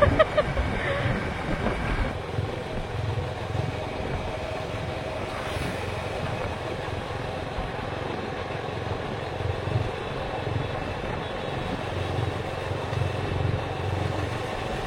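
A motorcycle rides along a tree-lined road under cloudy skies, its engine drone and heavy wind buffeting on the microphone continuous throughout, with a rough low rumble.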